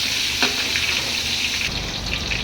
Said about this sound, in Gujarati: ત્યારબાદ આપણે કાપીને રાખેલી ડુંગળી ઉમેરીશું અને એને થોડી ગુલાબી થાય ત્યાં સુધી સાંતળી લઈશું.